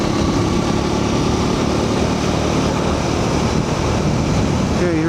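A 2026 Triumph 400 XC motorcycle engine drones loud and steady while riding in fifth gear at about 45 mph, mixed with constant wind rush, and a voice speaks briefly near the end.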